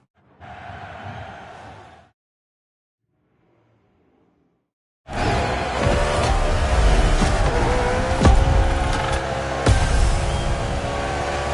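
Race cars in a video game: a short engine burst fades into near silence, then a loud field of cars roars to life together, revving and droning steadily with sharp gear-change spikes as the race gets underway.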